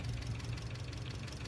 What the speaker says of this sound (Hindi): और इंजन का साउंड चेक करें, बिल्कुल सुन हो गया।